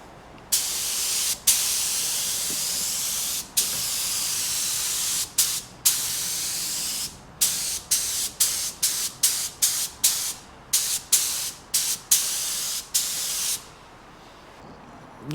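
A spray gun paints a car outdoors in cold weather, its loud, close, steady hiss running in long passes that are cut by brief pauses, which come in quicker succession toward the end.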